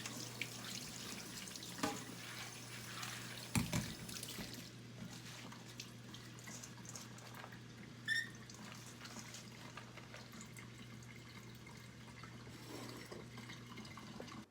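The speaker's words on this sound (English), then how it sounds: "So we're gonna give these lentils a really good rinse." Running tap water rinsing soaked lentils in a cottage kitchen sink, a steady close splash and trickle with a few brief clatters, no talking.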